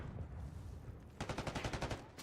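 Rapid bursts of video game gunfire from Call of Duty in a competitive esports match, a fast rhythmic volley of shots after a muffled rumble of explosions and action, fairly close and dense.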